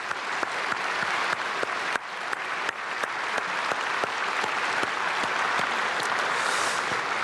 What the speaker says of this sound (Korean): 우리 박수로 감사드리겠습니다